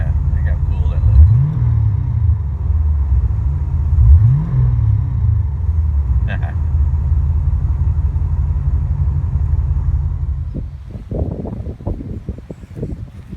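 A stock 1986 Corvette C4's 5.7 liter L98 tuned port injection V8 idles close by with a steady low rumble, and a few clunks and rustles follow near the end.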